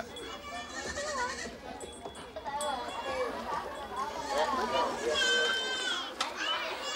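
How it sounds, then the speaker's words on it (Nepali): Goats bleat repeatedly in wavering calls, close by and fairly loud, in a village on Komodo island, with children's voices and chatter mixed in. "बाख्रा पालन यहाँका बासिन्दाहरूको जीविकाको मुख्य साधन हो उनीहरू साँझ पर्नु अघि नै बाख्रालाई खोरमा हुल्छन्"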